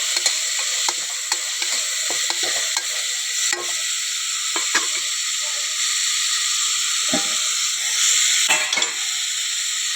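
Food frying in oil in a pan makes a continuous bright hiss, with frequent light clicks and scrapes of a spoon stirring throughout.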